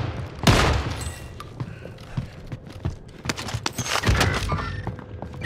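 Video game gunfire during a firefight, irregular loud cracks and thumps scattered over a busy mix of clatter and effects.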